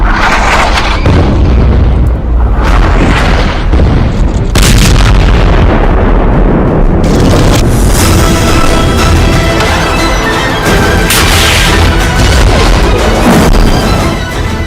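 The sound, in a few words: anti-tank missiles fired at Israel-Lebanon border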